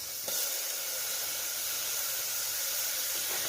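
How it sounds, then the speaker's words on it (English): Water droplets hit a very hot surface and hiss steadily, a broad sizzling steam noise that starts with a sharp onset and continues alone with no talking. "So I'm going to add some more water to it."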